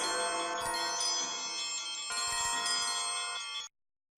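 Several house bells ring together in a loud, sustained metallic clangor that fills the space in a radio drama of A Christmas Carol, then stop abruptly, leaving silence.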